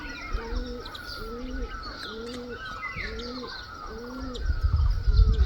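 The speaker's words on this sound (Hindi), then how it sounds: "यहाँ से आप गाँव की खूबसूरती और ये परिंदों की सुरीली आवाज़ें सुने ज़रा।" Birds sing and doves coo in a green village setting, with repeated soft two-note coos recurring steadily over several seconds alongside higher chirps, and a low rumble rising at the end.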